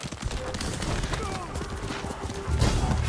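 Rapid hoofbeats of a galloping horse in a video game clatter in a steady rhythm, mixed with game noise and a muffled voice, and grow louder with a heavy thump near the end.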